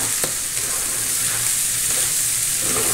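Loud, steady sizzle of onion, ground pepper and bay leaves frying in a pan for braised roast pork, with a brief clack of a stirring utensil and no talking.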